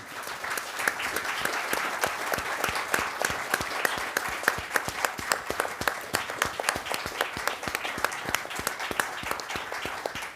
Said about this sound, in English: And I say applaud them.